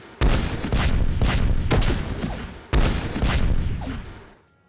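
Orbital bombardment of a planet in the video game Master of Orion: heavy explosive bursts crash in two long volleys of booming, rapid blasts, loud and close, fading out at the end.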